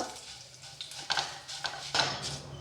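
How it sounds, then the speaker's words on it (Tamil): Buttermilk chillies roast in a pan with a faint background crackle, over which a spoon or spatula scrapes and clinks against the pan in several distinct, irregular strokes. "இப்போ மோர் மிளகா நல்லா வறுத்தாச்சு"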